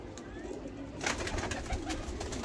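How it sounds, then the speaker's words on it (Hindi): Soft pigeon cooing close by, low and throaty, repeating gently over faint background noise without speech. "चेक कर लो कबूतर"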